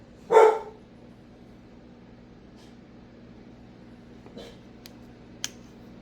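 A single dog bark bursts out loudly at the start indoors during a door hanger painting session, followed by a long quiet stretch with faint household clicks and ticks.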